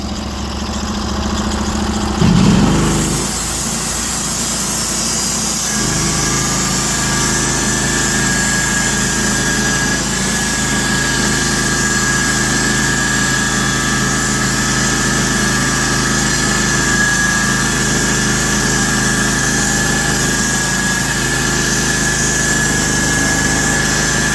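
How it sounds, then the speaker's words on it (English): A sawmill cuts a pitch pine log, running steadily with a deep mechanical drone; after a brief knock, a sustained high blade whine joins in and holds as it cuts. "I'm going to run a video with just so you can hear the mill cutting."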